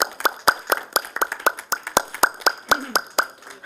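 Sparse, irregular hand claps from a small group, close and sharp with uneven rhythm, a brief murmur of voice midway, applauding Helen and the RSC team at a live-streamed information session.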